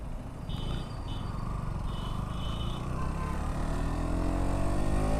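A KTM Duke 125 single-cylinder motorcycle engine revving up at full throttle, its droning exhaust note steadily climbing in pitch and loudness over several seconds, with a faint high whine early on and no talk.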